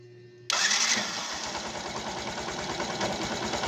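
A Yamaha YT motorcycle engine fitted with a new ignition and spark plug fires up abruptly after a brief quiet moment, then settles into a steady, even idle close by.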